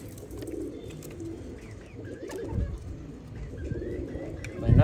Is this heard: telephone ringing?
no